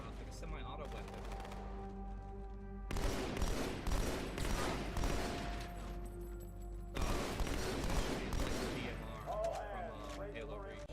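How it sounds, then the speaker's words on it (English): Battle rifle firing in Halo 2, sharp loud bursts of rapid shots in two long volleys separated by a short pause, set over game music and ambient hum. "I got the battle rifle introduced in this game"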